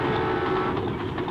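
Train running on rails in Australia, a continuous loud rumbling roar with low rattling and faint rhythmic clacks underneath, steady and close throughout.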